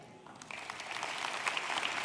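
A church congregation applauds, with light scattered clapping that swells gently over two seconds and stays soft and somewhat distant, with no voices.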